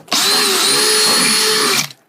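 A power drill bores a hole through a plastic cooler being made into a live bait well, one continuous high-pitched whine lasting nearly two seconds, close and loud, starting and stopping abruptly.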